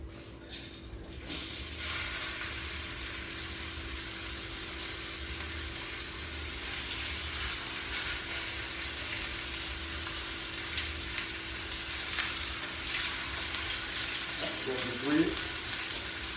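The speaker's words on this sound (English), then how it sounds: "now we're going to start searing our pork chops" Pork chops searing in a hot pan give a steady, close sizzle that runs throughout, with faint clatter near the end and a voice briefly heard.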